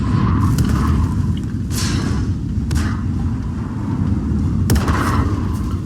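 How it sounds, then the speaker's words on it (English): Artillery barrage in World of Tanks: several heavy booms land a second or two apart over a constant low battlefield rumble, with sharp blasts near the start and middle and another toward the end. "That was just fast enough to escape the artillery barrage."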